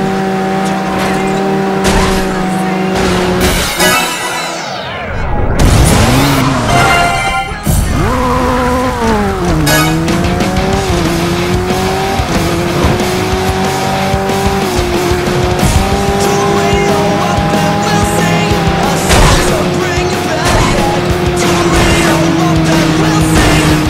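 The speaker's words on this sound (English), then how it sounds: "Pedal to the metal and metal onto metal, that's how you eliminate." Cars race in the Xbox video game Burnout 3: Takedown, roaring engines holding loud sustained tones that rise and fall through gear changes, with tire squeals, a crunching crash impact near the start and metallic bangs scattered throughout.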